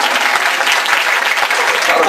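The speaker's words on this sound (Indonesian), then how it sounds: "Tepuk tangan dong, tepuk tangan." Audience applause fills a teachers' seminar for Sunday school teachers, a dense, steady burst of many hands clapping close and loud throughout.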